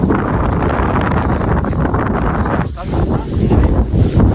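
Strong wind buffets the microphone on a grassy hilltop, a loud continuous roaring rumble that swells and gusts without pause.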